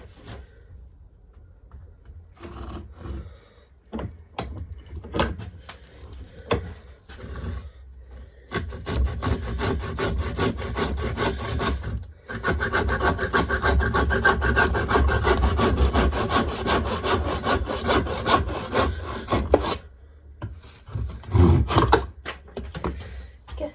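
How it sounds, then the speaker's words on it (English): A hand saw cuts a wooden wedge for a mallet, starting with a few tentative strokes and then settling into long runs of rapid, rasping back-and-forth strokes, close and loud, with brief pauses between runs. "I'm just going to cut another wedge first."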